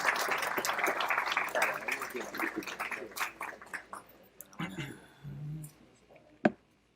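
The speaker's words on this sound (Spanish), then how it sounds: "La recibimos con un caluroso aplauso." Warm applause greets a speaker at the opening ceremony of an Amazon journalism and climate summit, clapping strongest at first then thinning out, with a voice starting as it fades.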